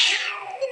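A person imitates a cat with a single short, nasal meow that slides downward in pitch, heard close and fairly loud.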